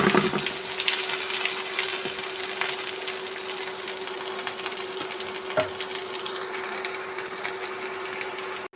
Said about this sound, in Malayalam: സവാള, കറിവേപ്പില, പച്ചമുളക് ഇട്ട് നന്നായി വഴറ്റിയെടുക്കുന്നുണ്ട്.